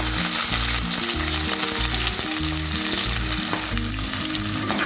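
Chopped big onions sautéing in hot oil with popped mustard seeds and urad dal for a white pumpkin dish, giving a loud, steady, close sizzle with no pauses and no voices.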